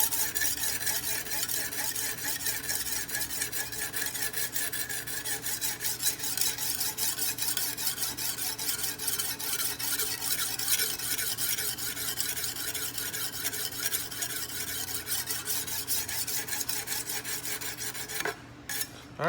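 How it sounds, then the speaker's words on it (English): A knife blade is scrubbed back and forth against a 400-grit stone on a Wicked Edge sharpener, a continuous gritty rasping that runs steadily and close before stopping abruptly near the end. "I just make some scrubbing with the stone until all that marker's gone."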